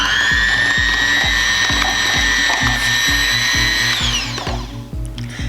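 An electric hand mixer whirs loudly and steadily while blending egg yolks with Greek yogurt for cloud bread, its beaters knocking in a fast, regular rhythm for about four seconds before the motor winds down.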